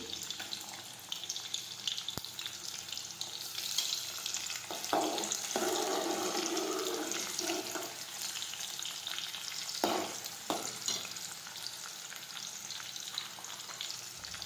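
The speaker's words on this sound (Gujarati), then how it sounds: "હવે આપણે મરચાંની કટકી નાખી દઈશું." Chopped chillies fry in hot oil for vaseti bhaji, a steady close sizzle with louder bursts of spitting and a few stirring scrapes, and no voices at all.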